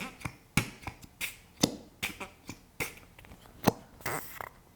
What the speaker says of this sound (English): No, it's a fart noise maker.